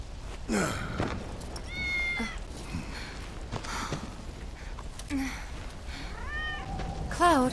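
In the Final Fantasy 7 Remake video game, a cat meows several times with rising and falling cries, some close and clear, among soft game ambience and occasional breathy vocal sounds.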